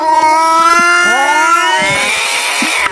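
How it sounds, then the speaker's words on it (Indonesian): A cat meows in a long, loud, drawn-out wail that rises and bends in pitch, close by and clear, lasting about three seconds with only faint background noise beneath it. "Malah ana suarane kucing kerai."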